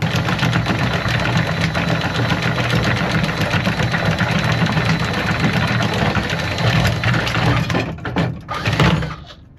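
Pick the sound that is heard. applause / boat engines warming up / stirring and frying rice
boat engines warming up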